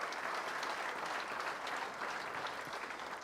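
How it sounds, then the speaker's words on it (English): Steady applause from an audience at a dirt modified hall of fame induction ceremony, thanking a speedway sponsor; dense, even clapping sustained throughout at moderate level with no speech. "Would you please give them a round of applause for all their efforts?"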